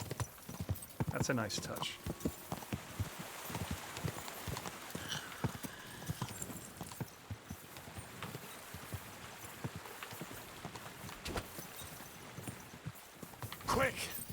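Horse hooves clip-clopping on a road in Kingdom Come: Deliverance II, a steady close rhythm of hoof strikes running the whole stretch, quiet overall, with someone talking briefly over it.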